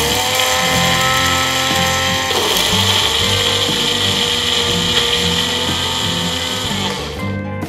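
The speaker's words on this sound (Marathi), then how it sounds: "आपण अशी चटणी मिक्सरमध्ये काढून घेऊ।" An electric mixer grinder blends curry leaf chutney with a loud, continuous motor whir. Its pitch shifts partway through as the load changes, and the sound fades near the end.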